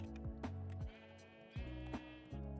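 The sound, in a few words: sheep bleating in Minecraft video game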